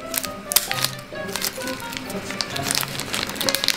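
Scissors snip through the plastic packaging of Kiri mochi rice cake blocks, giving a close run of crisp clicks and crinkles.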